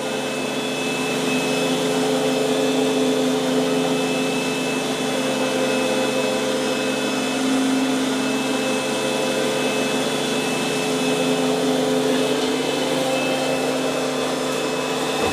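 An iRobot Roomba Combo 10 Max robot vacuum and mop runs continuously close by, giving a loud, steady whirring drone with a high whine and no breaks.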